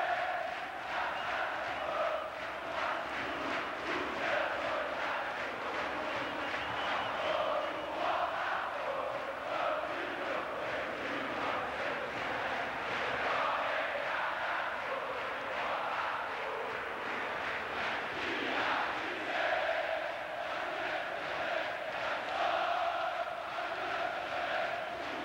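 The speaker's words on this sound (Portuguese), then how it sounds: "Olha a torcida cantando o hino no Maracanã aqui." Botafogo supporters sing their club anthem in unison at the Maracanã stadium during a Campeonato Carioca final, a distant, sustained mass of voices carried at a steady level for the whole stretch.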